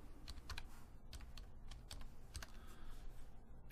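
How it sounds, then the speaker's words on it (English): Quiet, steady typing on a computer keyboard, a run of clicky keystrokes in an irregular rhythm with no voice. "So I'm going to type out my name."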